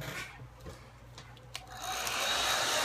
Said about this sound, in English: Use the hair dryer so it dries quickly